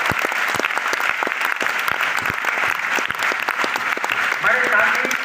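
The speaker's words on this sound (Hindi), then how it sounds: "इसलिए वंस अगेन तालियां।" Sustained applause from an audience at a grand university event at Bundelkhand University, Jhansi, with steady dense clapping that fills the whole stretch, loud and close.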